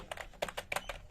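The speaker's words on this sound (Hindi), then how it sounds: "ऑब्वियसली एक गेमिंग मैकेनिकल कीबोर्ड है, तो" Keys clatter on an RGB gaming mechanical keyboard in a quick run of soft clicky strokes, close and fairly quiet, with no voice over them.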